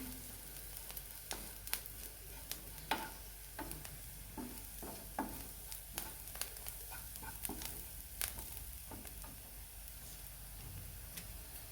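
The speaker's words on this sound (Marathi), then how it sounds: "आता आपण त्याच्यामध्ये लसूण खोबरं घेतलेलं टाकून घेणार आहोत ते पण छान परतून घ्यायचं" Garlic and coconut sautéing in a pan with fried onion, a steady soft sizzle broken by repeated light scraping and stirring clicks, close and fairly quiet throughout.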